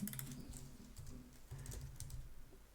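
Fast, light clicking of keys on a computer keyboard, a steady patter of close, soft keystrokes with no voice over it.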